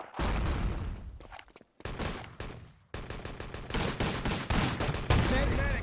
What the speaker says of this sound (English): oh, lucky rifle grenade